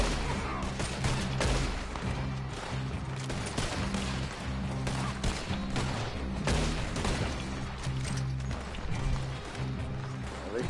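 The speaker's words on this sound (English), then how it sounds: "The 1 Gatling gun." Rapid bursts of gunfire fill the scene from a Gatling gun in the Red Dead Online western video game, dense and continuous throughout with crashes and other game sounds layered in.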